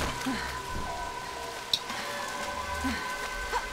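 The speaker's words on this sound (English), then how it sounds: "Oh, it's raining." Steady patter of rain falling in the video game Dead Island: Riptide, a soft continuous hiss with a few sharper drops standing out.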